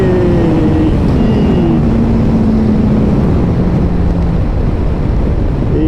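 A Suzuki GSX-S 1000 GT motorcycle engine accelerates with a loud, steady roar and a rising then falling drone, heavily buffeted by wind rush throughout.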